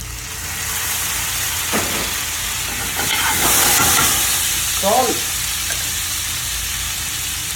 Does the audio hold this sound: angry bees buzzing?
no